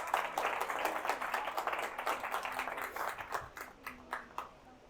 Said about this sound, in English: big round of applause to the SFL and Tamar for putting it together